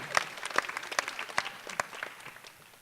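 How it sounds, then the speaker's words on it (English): Applause at a high school student forum on race relations sounds as scattered, sparse claps, with about a dozen distinct hand claps spaced out in uneven rhythm that fade toward the end. "Give him another round of applause."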